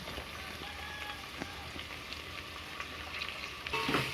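Mint leaves fry in oil with green chillies for bagara rice and give a steady, rain-like crackle. Occasional spatula scrapes build to a louder stir at the end.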